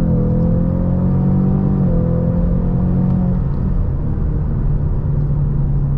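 A 2018 or newer Ford Mustang pulls away and accelerates, its engine a loud, steady rumble with a droning note that climbs slightly and then settles, close and continuous with no talk.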